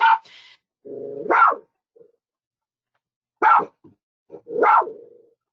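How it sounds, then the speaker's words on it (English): A dog barks several times in short sharp bursts, loud and close, with a low growl between the first barks and gaps of silence between the outbursts. "That dog does not like that."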